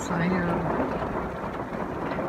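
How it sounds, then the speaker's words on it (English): Steady, dense rainfall pours down in a continuous broadband hiss, loud and close, with a faint low rumble underneath. "It's raining pretty hard"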